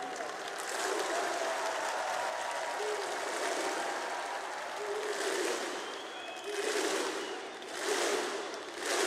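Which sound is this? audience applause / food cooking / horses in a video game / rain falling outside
audience applause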